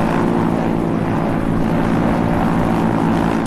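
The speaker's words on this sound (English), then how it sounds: "Engine ramp up. Aircraft steady, aircraft lifting." Airbus CityAirbus eVTOL demonstrator aircraft with its electric rotors spooling up for takeoff, a loud, steady, dense droning whir with layered tonal hum that holds unbroken throughout.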